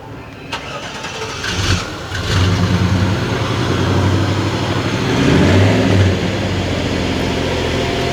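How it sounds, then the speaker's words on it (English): A 1955 Chevy Bel Air with a 350 LT engine cranks and catches, then settles into a steady, fairly loud idle with a brief rise in revs near the end. "Now we're going to start the car."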